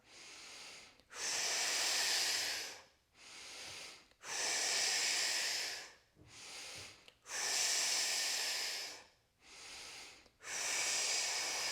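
Slow, even breathing during a yoga stretch, drawn in through the nose and let out through the mouth, close and soft, with each long airy breath separated by short pauses.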